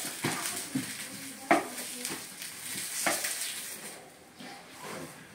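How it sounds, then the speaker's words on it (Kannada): Fish fries on a tawa in a multimaker with a soft, uneven sizzle, punctuated by a few light utensil taps and scrapes that fade toward the end. "Fish fry ready. So ಟವಾ fry."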